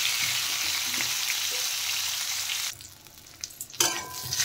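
Pointed gourd (potol) frying in oil, a bright loud sizzle that drops off suddenly partway, followed by a few clinks and stirring scrapes of a spatula in the pan.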